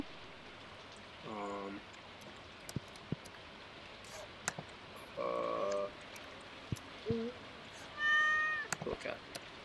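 A cat in the Stardew Valley video game meows three times at spaced intervals, clear and close, with rain pattering on a surface and scattered small clicks around it.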